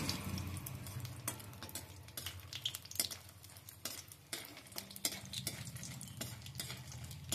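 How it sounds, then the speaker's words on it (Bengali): Lentil dumplings (bori) fry in mustard oil, a steady close sizzle with scattered sharp crackles and spatters running throughout, no voices. "বড়িগুলো তেলের মধ্যে দিয়ে দিয়েছি, একটু ভাজা হোক"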